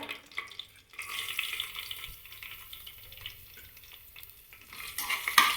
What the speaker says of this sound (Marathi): थोडंसं भाजून घ्यायचं, लसूण थोडासा लालसर होईपर्यंत